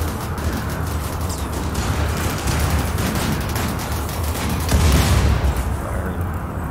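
Colonists firing guns in the RimWorld video game, heard as a steady, dense crackle of small shots running throughout at fairly high level, with a brief louder swell near the end and no clear talk.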